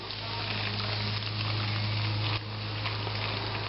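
Powdered egg mixture sizzles and fries steadily in a pan over a field stove, a continuous close crackle with a low hum beneath and a brief dip partway through.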